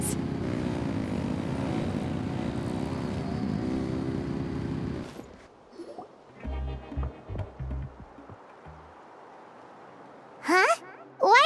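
Engines revving in Genshin Impact as a loud, steady, droning roar for about five seconds that cuts off abruptly, followed by sparse clicks, thumps and short voice-like sounds.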